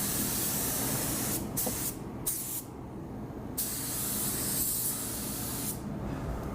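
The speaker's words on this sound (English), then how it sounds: "start spraying and making your passes" Harbor Freight Black Widow HTE 2.0 spray gun laying down clear coat on a panel, a loud steady airy hiss in repeated passes broken by several brief trigger releases, with no talking.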